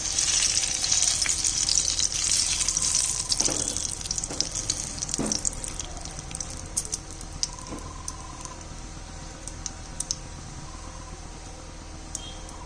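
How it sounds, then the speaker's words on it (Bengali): Two bay leaves dropped into hot oil for Bengali basanti pulao, a loud steady sizzle that slowly eases, with a few soft clinks and light stirring knocks, close by and with no talk. "দিয়ে দিচ্ছি দুটো তেজপাতা"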